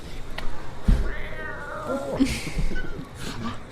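A cat gives a couple of drawn-out, wavering meows with a soft thump between them. The calls are close and moderately loud over a quiet room background.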